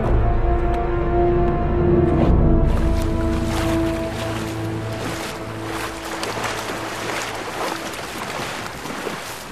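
A sailing ship moves over the ocean in a video game, with continuous rushing water and waves, low creaking tones and steady wind, loud at first and easing slightly.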